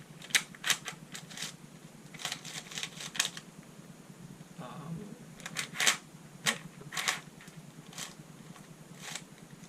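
A 2x4x6 shapeshifter cuboid twisty puzzle is turned by hand, producing clusters of quick plastic clicks and clacks in short bursts with brief pauses between, close and fairly quiet.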